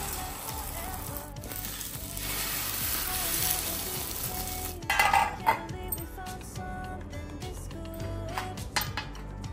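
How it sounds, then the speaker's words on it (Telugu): Slices of raw plantain fry in a pan with a continuous hiss, while a utensil clinks and scrapes against the metal in a short burst midway and once more near the end. "రసం పెట్టాను, దానిలోకి అరటికాయ ఫ్రై చేస్తున్నాను"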